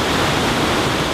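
A flowing river rushes at close range, a loud, steady broadband roar of moving water with no voices and no change across the brief moment.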